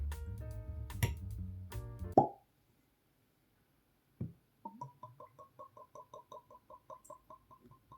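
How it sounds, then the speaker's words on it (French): Whisky glugging from a freshly opened bottle of entry-level Ardbeg, a rapid run of evenly spaced gurgling plops lasting several seconds after a louder clatter and a pause, close and clear with no talk. "vous l'avez entendu au glouglou caractéristique, cette bouteille est toute neuve"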